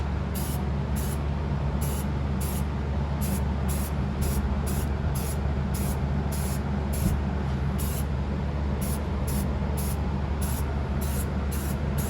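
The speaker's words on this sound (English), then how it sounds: "So I'm gonna give it just kind of a quick little spritz." Aerosol spray coating applied to brake parts of a 1966 Ford Thunderbird, a series of short hissing spritzes in quick rhythmic bursts, close and fairly loud, no talking.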